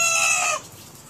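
Chickens on a goat farm, a single brief close squawking cluck that cuts off after about half a second, followed by faint background.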